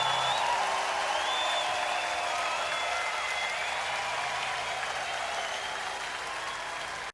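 A concert audience applauds after a live performance, dense sustained clapping from a large crowd that fades slightly toward the end.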